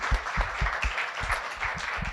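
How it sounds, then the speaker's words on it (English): Audience at final presentations of a sustainability design charrette applauding a team, a dense, continuous wash of clapping with thumping low bursts, steady throughout at moderate loudness. "please let's give a very warm applause to this amazing team"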